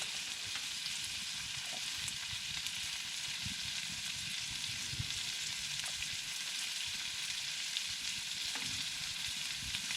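Sausages fry in a hot pan with a steady, close crackling sizzle that continues throughout, with occasional louder pops and spits and no talking.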